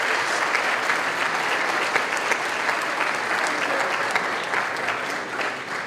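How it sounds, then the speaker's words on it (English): An audience at a school top scholars ceremony applauds the parents with sustained, dense clapping that holds steady throughout. "let's give the parents a round of applause for supporting them over this year"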